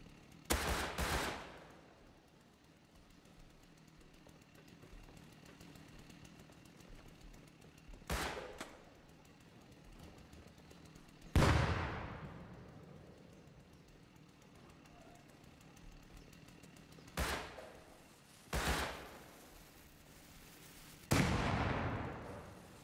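Explosions and bursts of gunfire in the survival video game Rust: a handful of loud booming blasts spaced several seconds apart, each decaying, over a low rumbling background.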